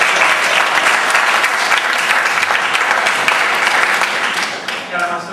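A concert crowd applauds a wind player during band introductions, a loud, dense, sustained wash of clapping that tapers near the end as a voice begins speaking.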